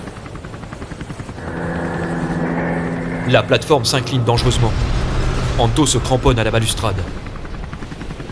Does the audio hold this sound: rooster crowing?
no